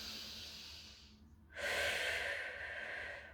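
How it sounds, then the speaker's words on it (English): A person doing a Pilates mat stretch takes a slow, deep breath, a soft drawn-in breath followed by a longer, louder breathy exhale, close and alone. "And breathe."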